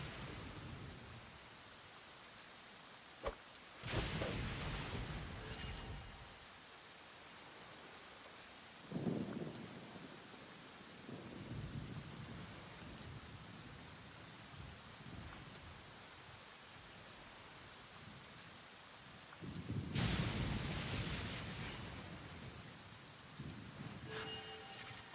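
Rain and thunder in the video game Genshin Impact: a soft, steady patter of rainfall, with several louder swells and low rumbles rising and fading at intervals.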